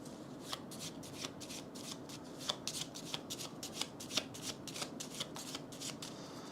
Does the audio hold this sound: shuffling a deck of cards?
yes